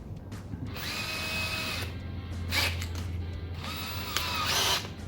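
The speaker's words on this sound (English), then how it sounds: "So this is the right drill bit, which happens to be 5/16." A 5/16 drill bit bores into cast resin for a clock, the power drill whining in two strong bursts with a steady motor hum between, close and loud with no talk.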